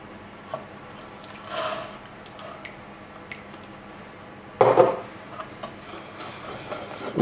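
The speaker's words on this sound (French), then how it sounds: "On finit d'incorporer le beurre." Melted butter being folded into a yogurt cake batter in a bowl, giving soft, wet rubbing and scraping strokes with a louder burst of spoon-on-bowl scraping midway, close and steady with no talking.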